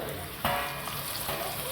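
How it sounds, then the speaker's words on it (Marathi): Hot tempering of fried chillies and garlic poured into Punjabi-style chole curry, giving a sharp burst of sizzling crackle that settles into a steady fry hiss, with a second small splash later. "आता आपण भाजीमध्ये ही फोडणी करतो"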